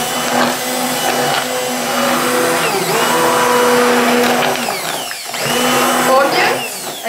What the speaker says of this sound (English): I mix the vegetables very good with the mixer.